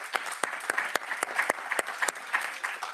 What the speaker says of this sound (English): So also a very warm applause for Lily.